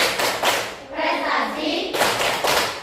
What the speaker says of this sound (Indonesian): Yuk, tepuk prestasi